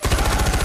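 Rapid automatic gunfire from the video game Far Cry 4 in multiplayer, a loud, dense burst of close shots with no talking.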